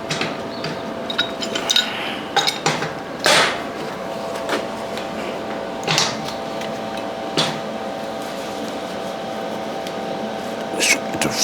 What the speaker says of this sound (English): I'm gonna take it and kind of twist it this way a little bit with this pipe wrench